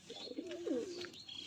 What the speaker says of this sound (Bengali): এই যে পায়রাকে এখন খাবার দেয়া হচ্ছে, দেখো কি সুন্দর পেখম মেলেছে পায়রাটা